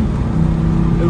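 A 240-horsepower Volvo 850 T-5R turbo, over thirty years old, accelerates hard on kickdown with a loud, steady, close engine roar that holds for the whole moment.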